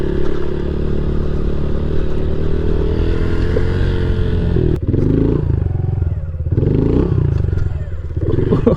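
A 2020 Honda CRF110 dirt bike rips through grass with a close, buzzing single-cylinder engine. It revs steadily, then cuts off briefly before picking up again with clattering and scraping, and there is no speech.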